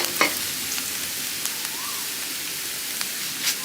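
Garlic stir-fried in a pan for Thai holy basil stir-fry with fried mackerel sizzles in a steady hiss, with faint ticks from occasional stirring and no talk.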